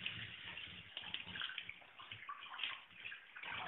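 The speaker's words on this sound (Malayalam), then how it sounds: "നമുക്കിനി കഴുകി എടുക്കാം." Tap water runs and splashes steadily while tuna fish is rinsed in a kitchen, a faint, continuous gurgling stream with small shifting splashes and no talk.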